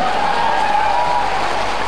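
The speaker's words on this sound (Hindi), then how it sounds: "एकपल्ट ताली बजाउनुहोस् न" A crowd at a new-house handover ceremony claps steadily in a continuous, fairly loud wash of hands, with a faint tone running beneath it.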